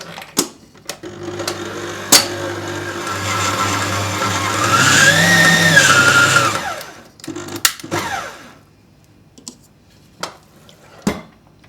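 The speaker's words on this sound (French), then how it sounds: "Je les mets au mixeur" A kitchen food processor blends soaked olives with thyme, its motor whirring loud and steady for about four seconds with a slight rising pitch, framed by sharp clicks and knocks of the lid and bowl before and after.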